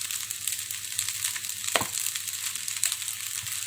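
Fried rice sizzles steadily in a hot pan as sweet soy sauce is added, a close, crackling hiss with a brief scrape of the utensil partway through and no voices.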